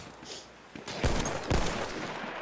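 Semi-automatic rifle fire in Battlefield 1 cracks out in two heavy, widely spaced shots over a low battlefield rumble, fairly close and punchy.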